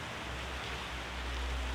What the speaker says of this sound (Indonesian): sayangnya hujan pemirsa